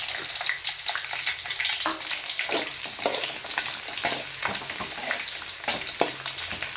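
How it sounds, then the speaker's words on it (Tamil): Steady, loud sizzling of onion, ginger, green chili and garlic frying in hot oil, with occasional crackles and stirring scrapes throughout. "வெங்காயம், இஞ்சி, பச்சை மிளகாய், பூண்டு இது நானும் நல்லா கொஞ்சம் ஃப்ரை ஆகட்டும்."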